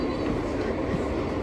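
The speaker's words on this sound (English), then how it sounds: "This is Brooklyn-bound F local train." A Brooklyn-bound F local subway train rolls along with a steady, loud rumble and roar heard from inside the car, continuous throughout with no talk.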